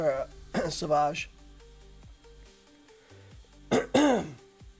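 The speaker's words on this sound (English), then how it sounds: "Sorry about coughing all over the mic." A congested man with a sinus infection clears his throat and coughs right into the microphone, rough bursts at the start and again near the end, with a game's music playing underneath.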